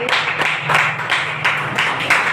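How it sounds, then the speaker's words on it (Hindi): Audience at a wellness company venue program clapping to welcome a speaker, a steady close run of hand claps with a slight rhythmic pulse and no talk over it. "एक जोरदार तालियां बजाइए, तालियों के साथ सर का वेलकम करिए"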